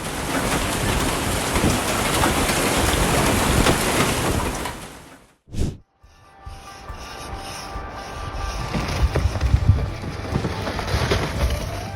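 Dense hail and rain pound hard on surfaces during a flood, a loud roaring clatter that drops out briefly, then resumes with sharp scattered impacts.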